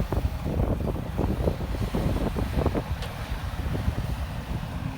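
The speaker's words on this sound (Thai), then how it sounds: "วันนี้เป็นวันนี้ลมแรงนะครับ พายุเข้า" Strong stormy wind buffeting an outdoor microphone, rough low-pitched rumbling gusts that dominate throughout and ease slightly toward the end, with no one talking.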